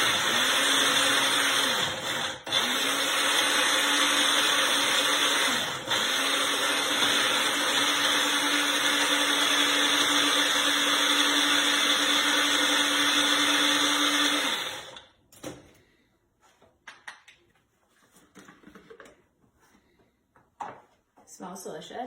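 A NutriBullet Magic Bullet blender whirring loudly and steadily through pesto for about fifteen seconds, with brief pitch dips as the load shifts, then stopping abruptly, followed by quieter handling sounds.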